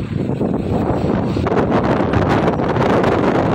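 Strong wind blows continuously, roaring and buffeting against the microphone throughout.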